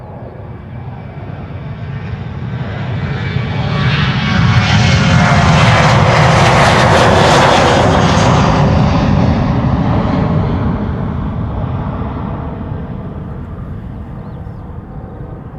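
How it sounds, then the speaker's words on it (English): A 13-year-old KLM Boeing 737-800 departs Schiphol for Manchester: a steady engine rumble builds over four seconds to a loud, full roar and then gradually recedes as the jet climbs away, heard alone. "KLM flight 1031 up next, departing to Manchester. 737-800."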